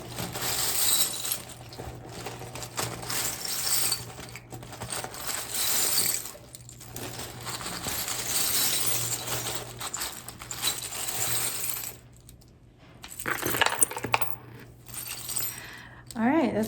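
Small metal charms clinking and jangling as they are shuffled together, in irregular bursts with a few short pauses.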